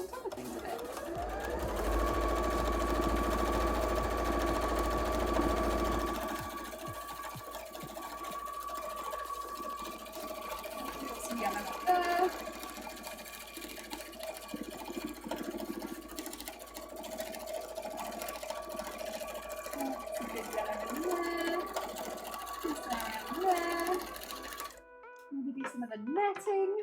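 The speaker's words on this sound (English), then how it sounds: "To do that, I will need to sew on top of things a bit." A sewing machine stitches layered cosplay fabric with a loud steady buzzing run at first, then lighter intermittent stitching bursts while a person talks over it.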